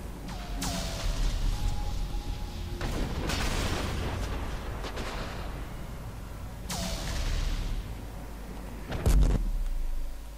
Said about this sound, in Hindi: ये क्या धमाका हुआ है बड़ा सा वहाँ पे